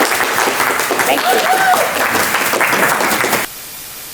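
Audience applause at a robotics competition awards show, a dense, steady wash of clapping that cuts off abruptly near the end, with a brief spoken thanks over it.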